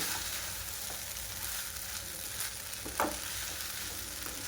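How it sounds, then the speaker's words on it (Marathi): Veg Hakka noodles stir-fried in a pan, street style: a steady close sizzle and hiss fills the clip, with a few soft clinks and scrapes of stirring, no voices. "आणि छानपैकी परतून घेणार आहोत."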